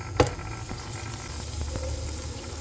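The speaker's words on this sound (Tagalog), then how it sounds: "Ito na guys, magigisa na tayo." Margarine melts and sizzles in a pan as sautéing begins, a quiet, even hiss after a single clink of a utensil at the start.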